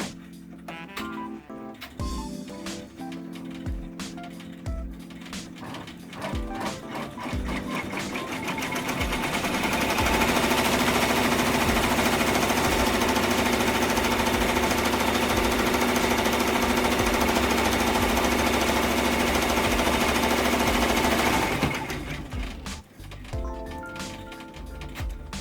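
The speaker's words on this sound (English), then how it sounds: "let the tack down occur, and so this is where it's going to actually tack down my stitches." A sewing machine tacks down stitches while a pocket is added to a reversible item. A few short bursts build into one long, loud, steady stitching run, then it stops and a few lighter mechanical clicks follow.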